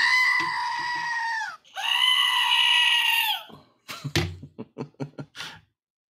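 Goats bleat loudly in two long, wavering cries, followed by a quick run of shorter, choppy bleats and calls close to the listener, with no talking.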